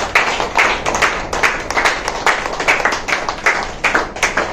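Several people at a human rights awareness association event for elderly people clap together in a brisk, steady rhythm of close, bright hand claps.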